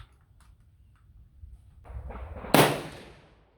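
A single 6.5 Creedmoor rifle shot firing a 140gr ELD-M handload over 44.8 grains of Power Pro 4000-MR, one loud sharp crack near the end following quieter low rumbling and faint background noise.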